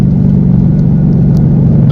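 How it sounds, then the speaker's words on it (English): A 2018 Mustang GT's active exhaust in Sport Plus mode holds a loud, steady low rumble while driving in fourth gear, a deep continuous V8 drone with no voices. "let's do the test in 4th so you can hear the exhaust a little bit better as it revs a little bit higher here"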